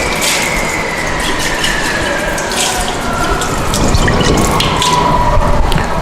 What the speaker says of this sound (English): wash your conical flask thoroughly with water